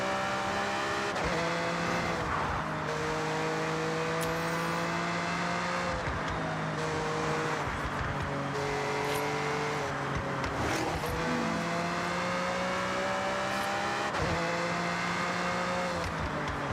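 A Lamborghini racing in Forza Horizon, a loud continuous engine roar climbing through the revs with gear shifts and occasional tire squeal, close and without talk.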